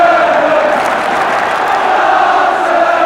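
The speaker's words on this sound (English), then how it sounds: "Crowd getting behind Tottenham now" Football crowd at a Tottenham versus Stoke City match roaring in support of Tottenham, a broad sustained wash of massed voices at steady volume throughout.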